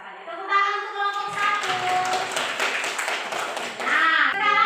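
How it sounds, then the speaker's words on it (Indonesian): Classroom applause for a student group after their presentation on fiction and nonfiction books, a rising patter of many hands clapping that fades out, with children's voices chattering over it. "Tepuk tangan untuk kelompok"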